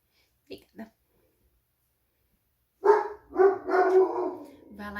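Two short sharp barks from a dog, then a person starts talking over what sounds like whining and further barking.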